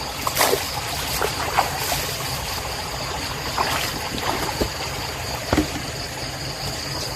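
Water flows steadily through a small stream channel outdoors, a continuous rushing wash with a few brief splashes and trickles over it.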